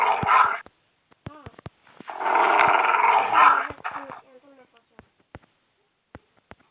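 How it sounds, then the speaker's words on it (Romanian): A hostile dog or wolf mob growls and yips in Minecraft PE during a multiplayer game, giving two longer growling bursts followed by short sharp yips and clicks, fairly close and loud, with gaps of quiet between. "Omoară câinele aia care vine."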